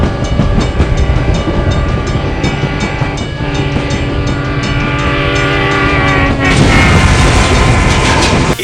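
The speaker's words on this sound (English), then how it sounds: "we'll show you what might happen if you wait for a train to clear the crossing" A train rolls loudly through a railroad crossing close by, with a continuous rumble of wheels on track and steady rhythmic clatter that swells near the end.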